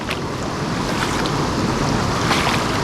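Steady rushing water of a rocky creek near a waterfall while someone wades across, a constant broadband wash with no distinct splashes standing out.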